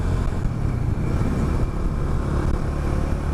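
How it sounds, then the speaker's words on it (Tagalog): Motorcycles racing around a speedway make a continuous, fairly loud engine roar, a dense steady drone with no breaks and no talk over it. "Ito tayo sa speedway. Yung naririnig ako, yung mga motor."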